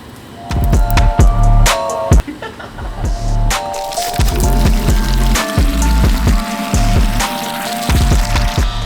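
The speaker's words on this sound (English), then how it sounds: "I'm gonna fill up these wash buckets first." Water from a garden hose gushes into car wash buckets at home, loud and close, a steady splashing fill with irregular sloshing and knocks.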